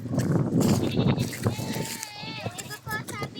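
Goats bleat in several quavering cries, near and fairly loud, over a child and other people talking and some footsteps on a farm path.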